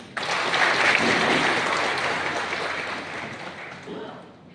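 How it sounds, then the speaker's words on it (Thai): Audience applause at an award ceremony for outstanding bus transit employees, a dense, loud burst of many hands clapping that begins abruptly and slowly tapers off, with no talk over it. "การพูดในการขอเสียงปรบมือด้วยค่ะ"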